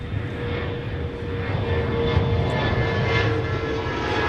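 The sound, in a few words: Boeing E-4B US Air Force aircraft arriving on runway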